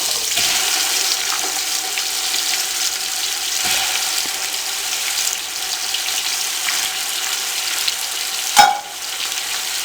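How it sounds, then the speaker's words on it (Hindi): Chicken frying in a pot for chicken mattar pulao, a steady bright sizzle with occasional stirring scrapes and a sharp clink near the end, close and continuous with no talking. "अब चिकन को 1-2 मिनट के लिए अच्छी तरह भून लें"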